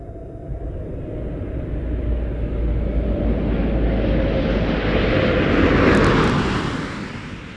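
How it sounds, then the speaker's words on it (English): A Space Shuttle approaching touchdown on landing, a broad rushing roar that swells steadily and peaks near the end, loud and continuous with no talk. "Main gear, landing gear now down and locked."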